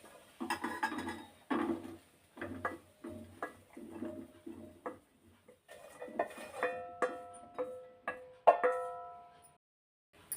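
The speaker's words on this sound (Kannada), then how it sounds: "ಇದಕ್ಕೊಂದು ಪ್ಲೇಟ್ ಟ್ರಾನ್ಸ್ಫರ್ ಮಾಡೋಣ" Dry-fried bitter gourd, cooked in an empty pan without oil, scraped from the pan onto a plate: a run of close metallic scrapes and clinks, with sharper ringing utensil-on-plate knocks toward the end.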